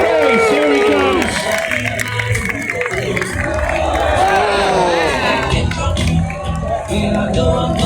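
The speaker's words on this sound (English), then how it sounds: "let's have a big round of applause for Dougal, the Scotch Fat Boys" A crowd at the Lambeth Country Show sheep show cheers and claps loudly and continuously, a dense wash of applause and voices with someone talking over it on a loudspeaker.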